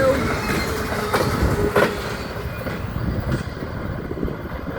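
A BNSF double-stack freight train with containers on piggyback cars rolls past nearby in a steady rumbling roar with rhythmic clickety-clack from the wheels and no voices.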